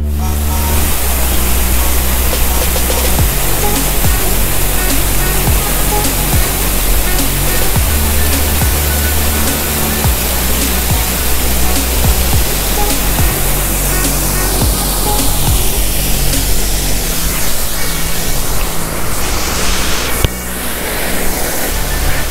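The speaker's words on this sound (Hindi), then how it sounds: "और आगे वो जो झरना है वो देखिए बड़ा खूबसूरत है" A waterfall pours down a hillside in the Konkan region of Maharashtra as a loud, unbroken roar of rushing water that holds steady throughout, with no voices.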